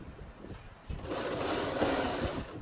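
A sewing machine stitching a frock starts up close after a moment of quiet and runs as a steady, fast whirring hum to the end.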